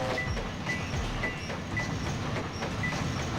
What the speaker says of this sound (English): It's the Ghost Train.